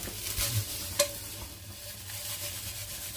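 Seasoned chicken pieces being mixed in a seasoning bowl, a soft wet stirring and squelching with one sharper clink partway through, fairly quiet and without speech.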